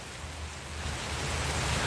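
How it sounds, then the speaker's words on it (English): Steady rain falls outdoors on a city street, a continuous broadband hiss that swells slightly louder over the two seconds, with no voices over it. "You all see that rain back there?"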